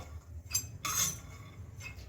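Fried chutney powder ingredients scraped from a pan into a bowl, giving two or three short metallic clinks of a spoon against cookware, close and fairly quiet, with a faint kitchen hum underneath.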